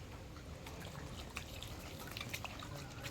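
Rainwater trickling and dripping outdoors during a rain shower, a faint, steady watery patter with scattered small drips, no voices present.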